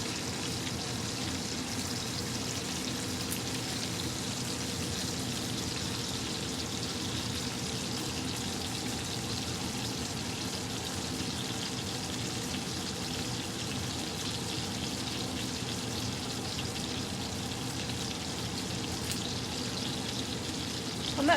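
A ribeye steak sizzles in a cast iron pan while being basted, a continuous dense hiss and spatter with faint splashing, close and steady throughout with no talking.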